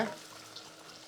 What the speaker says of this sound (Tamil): நல்லா ஒரு மூணு நிமிஷத்துக்கு இந்த வெங்காயத்தை நீங்கள் வதக்கணும்